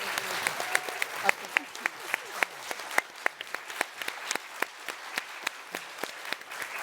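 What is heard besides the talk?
audience applause for panel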